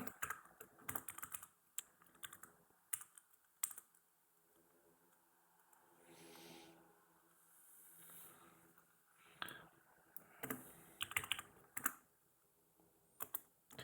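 Bursts of typing on a computer keyboard while code is written, in irregular clusters of clicks with pauses between them, fairly quiet, with a voice talking faintly in parts.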